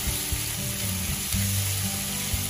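Mushrooms sizzle steadily in a hot pan while being fried for a frittata, a close, continuous crackling hiss with no talking over it.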